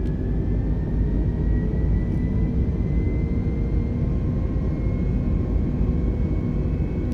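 Airliner engines roar steadily through a takeoff roll in Microsoft Flight Simulator 2020, a loud continuous rumbling drone with a faint rising whine running throughout.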